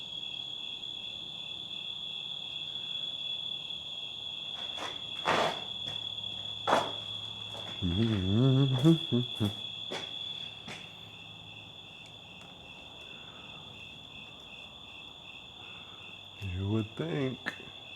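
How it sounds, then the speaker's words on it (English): Crickets chirp in a constant, high-pitched trill throughout, inside an old building at night, with a voice and a few scattered knocks breaking in now and then. "Crickets are loud."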